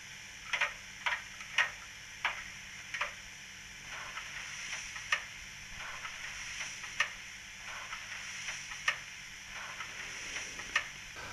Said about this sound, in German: Dann haben wir noch die Speisepumpe.